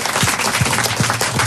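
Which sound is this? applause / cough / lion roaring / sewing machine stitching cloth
applause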